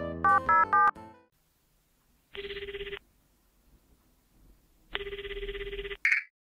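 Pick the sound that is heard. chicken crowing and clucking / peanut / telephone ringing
telephone ringing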